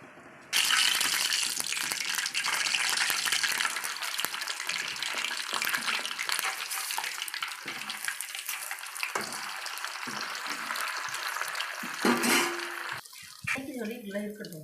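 Loud, dense sizzling and spattering of rock fish frying in hot oil starts abruptly and continues steadily, with a few clinks near the end.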